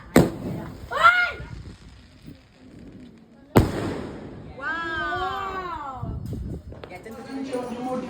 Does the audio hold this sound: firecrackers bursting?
yes